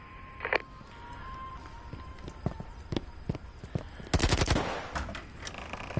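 Gunfire in Captain's Holodeck Training Program comes as scattered sharp shots, then a dense burst of rapid automatic fire near the end, with footsteps and soft background sounds between.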